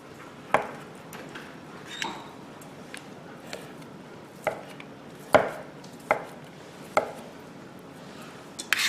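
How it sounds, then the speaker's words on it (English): A knife cuts queso fresco cheese into small chunks on a board, about a dozen crisp, irregular chops close by with short pauses between them. "here we have our Queso Fresco, and we'll go ahead and chop that up into small little chunks"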